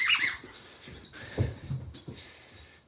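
A dog gives short whimpers and wheezy squeaks, faint and intermittent against a quiet indoor background.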